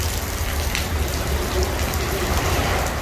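Steady rain falling in Russia, a dense constant patter with low rumbling, no voices.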